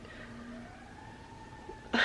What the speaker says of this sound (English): I'm gonna let that siren just pass on by.